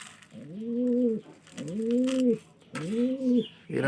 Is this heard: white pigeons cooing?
yes